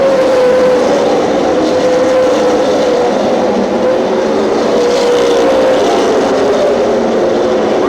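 Race cars circling a track in a 20-lap feature race, giving a loud, continuous roar of engines with a steady droning pitch that shifts slowly as the cars pass.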